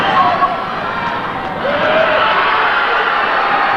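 Loud, continuous crowd roar and murmur at a Saturday afternoon high school boys' basketball game in a gym, sustained and busy throughout.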